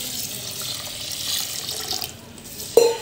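Tap water runs while a kilogram of rice is rinsed for chakli bhajani, a steady close hiss that drops away near the end, followed by a brief knock.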